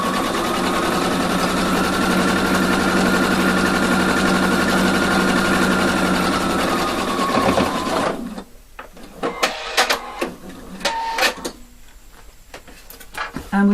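A sewing machine top-stitches along a zipper edge, running in a steady fast loud hum for about eight seconds before stopping, followed by quieter handling clicks and rustles.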